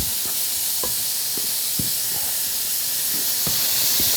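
Lamb sears in a hot pan with Ethiopian spices and turmeric, giving a loud, steady, close hiss of sizzling fat, broken by faint scattered spatters and light utensil knocks, with no talking.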